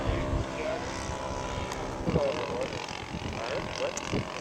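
Radio-controlled scale model airplane in flight just after takeoff at a scale aircraft show, a steady propeller engine drone running throughout at moderate distance, with a few louder swells and people talking faintly in the background.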